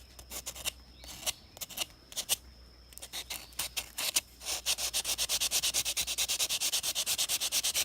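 Hand sanding on a Damascus knife blade, a steady run of rapid back-and-forth rubbing strokes, close and fairly loud, starting irregular and settling into an even rhythm with no talk.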